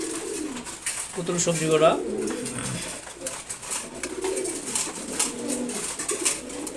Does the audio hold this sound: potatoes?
no